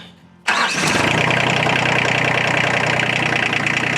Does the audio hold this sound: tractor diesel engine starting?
yes